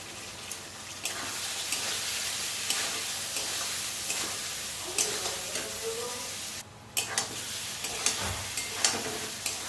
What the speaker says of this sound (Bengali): দিয়ে মশলাটা ভালো করে কষাবো। আর একটু ধনের গুঁড়োও দিয়ে দেবো।